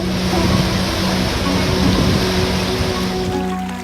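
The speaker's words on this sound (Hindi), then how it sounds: "कल कल करती गंगा की ये आवाज सिर्फ अविरल धारा का बहाव नहीं, बल्कि पतित पावनी के दिल की आवाज भी है।" The Ganges flows in a steady broadband rush, a continuous near wash of moving water with no talk over it.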